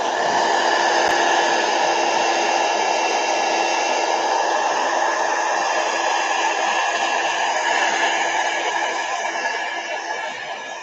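A hair dryer blows steadily on glued paper sheets, a loud, continuous whirring hiss that holds for the whole stretch and eases slightly near the end.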